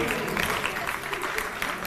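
An audience at a Delhi government annual awards ceremony claps steadily, a dense, sustained wash of applause from a large crowd that stays loud and even throughout.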